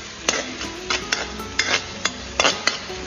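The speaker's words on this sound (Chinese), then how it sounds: "锅中留底油，放入姜葱蒜末和小米椒，给它一起炒香， 再往里面放入一勺黄豆酱，翻炒均匀，炒出香味" Ginger, scallion, garlic, chili and soybean paste are stir-fried in a wok, a low sizzle punctuated by repeated sharp clinks and scrapes of a spatula on metal, close and without speech.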